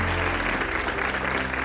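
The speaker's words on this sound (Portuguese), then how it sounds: "Peço um aplauso para os dois." A television studio audience applauds two guests with dense, even clapping that stays loud and uniform for the short stretch, with no pauses.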